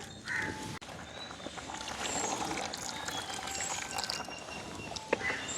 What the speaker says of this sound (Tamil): நாங்கள் கொஞ்சமாக பழப்புளி சேர்த்து விடுவோம்